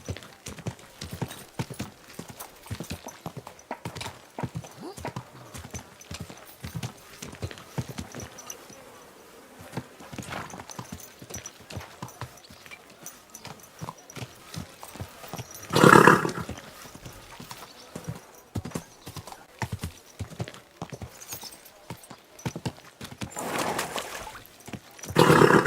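Horse hooves clip-clop steadily in Kingdom Come: Deliverance 2, a continuous rhythmic run of footfalls with louder roaring bursts around the sixteenth second and at the end.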